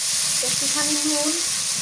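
Shrimp frying in a pan with salt, a steady close sizzle and hiss throughout, with faint scraping stirs and a few brief tonal squeaks midway.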